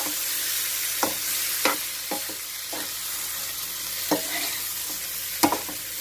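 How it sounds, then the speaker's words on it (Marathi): Ridge gourd bharit being stirred and mixed in a hot pan, a continuous loud sizzle with scattered scraping clacks of the spoon every second or so, close and unaccompanied by speech. "सगळं मिक्स करायचं."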